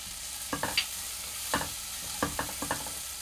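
Chopped onion and crushed ginger fry in a pan for Thai soup, a quiet steady sizzle broken by several sharp scraping stirs of a spatula.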